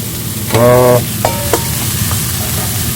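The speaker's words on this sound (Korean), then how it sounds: "그냥 볶은 게 기름에 볶는 게 더 맛있다고 해가지고 지금 딸내미가 맛있게 볶고 있습니다." Shrimp, freshly caught by cast net on the coast, being stir-fried in oil by hand. A loud burst of sizzling and scraping comes first, followed by a few shorter stirring clatters against a faint steady frying hiss.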